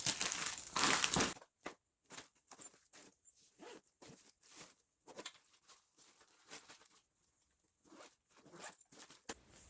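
Ziploc bags crinkle and rustle in short, close bursts while someone packs for a trip to Europe, with quiet gaps between handlings.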